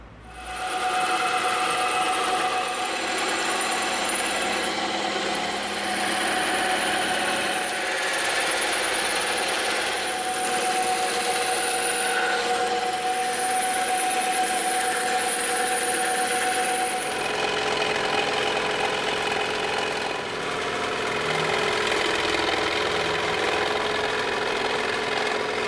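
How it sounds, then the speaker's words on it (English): A bandsaw and a scroll saw cutting a piece of EVA foam for a bison axe prop, a steady mid-level machine whir running continuously for about twenty-five seconds with no voices. "we're gonna go over to the bandsaw and the scroll saw and we're gonna cut this piece out"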